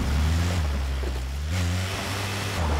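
ATV engine in the battle royale game PUBG (PlayerUnknown's Battlegrounds), a steady mid-pitched motor hum that dips and rises in revs over a few seconds, close and continuous with no talk.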